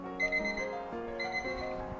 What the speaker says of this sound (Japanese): タイマーが今更なりました